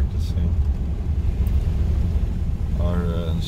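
A car moves about a driving-practice lot on a windy day, its engine a steady low rumble with heavy wind noise throughout and a brief higher tone near the end.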